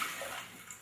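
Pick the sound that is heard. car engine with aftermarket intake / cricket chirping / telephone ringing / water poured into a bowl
water poured into a bowl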